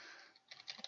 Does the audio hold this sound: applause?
no